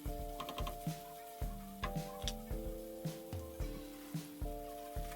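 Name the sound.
ground pork cooking in a pan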